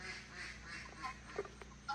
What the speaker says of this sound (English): this duck